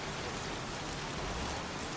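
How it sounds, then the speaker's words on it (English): Dense, steady rain hisses without a break in the crime game Heavy Rain, a soft, even wash of noise with no voices. "Jeez, won't this rain ever let up?"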